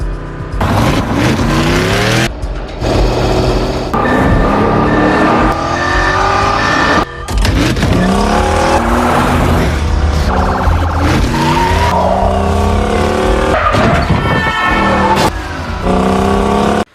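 A film car chase with a detective in pursuit: loud revving engines, repeated tire squeals and skids, and whooshing cars passing close by, with sharp cuts between shots and no speech.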